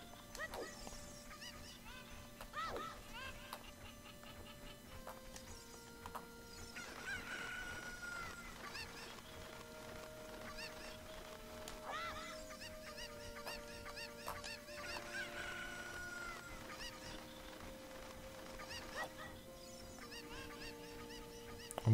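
Chickens in The Legend of Zelda: Ocarina of Time cluck and squawk repeatedly throughout, layered over ongoing game music with a steady melodic line, moderately loud and busy, with no talking.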